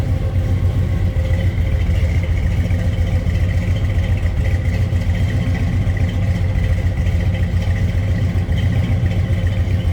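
A 1978 Chevrolet Nova engine idles at close range, a steady low rumble with light clatter running evenly throughout, no talking.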